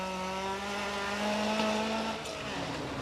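A Ford Escort rally car at a 1993 stage rally in Townparks, with a steady engine drone holding high revs and a shifting pitch, heard from a distance and fading slightly toward the end.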